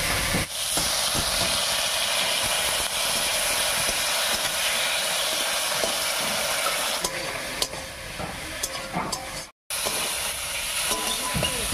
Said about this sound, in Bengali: এবারে মশলা বাটা জল দিয়ে ভালো করে কষিয়ে নেব।